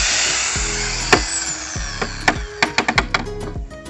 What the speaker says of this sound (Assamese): আমি ঘূৰাবলৈ ইউজ কৰিম এইটো ড্ৰিল মেচিন